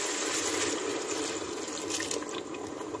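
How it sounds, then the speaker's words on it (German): Tap water running steadily into a cooking pot, about a liter poured for a stew, a continuous close splashing hiss with no talk. "Gebe ich 1 Liter Wasser rein"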